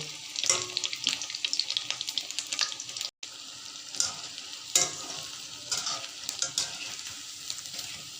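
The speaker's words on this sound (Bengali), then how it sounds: "আমি এখন এটাকে অল্প আঁচে ভেজে নেব, আস্তে আস্তে করে।" Cauliflower pakoras fry slowly over low heat with a soft, close crackle, punctuated by bursts of scraping and turning in the pan. A brief silent gap falls midway, and no one speaks.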